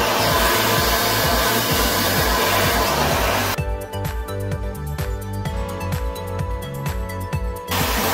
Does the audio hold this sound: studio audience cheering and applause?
no